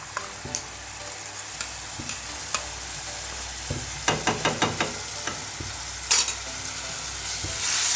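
Masala being stirred and fried with whisked yogurt for beef paya, a steady close sizzle broken by a run of quick scraping spoon strokes against the pot, with no talking.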